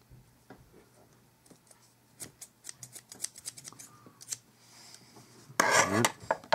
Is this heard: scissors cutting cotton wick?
yes